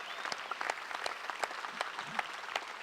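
An audience at the opening ceremony of a charity run claps to honor the families of servicemen and women, moderately close. The applause is sparse and uneven, with distinct separate claps rather than a dense roar.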